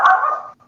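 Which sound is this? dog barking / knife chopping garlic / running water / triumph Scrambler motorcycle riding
dog barking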